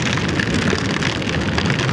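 Steady, dense rain noise fills the whole stretch, a constant broadband hiss of heavy downpour with no gaps or voices.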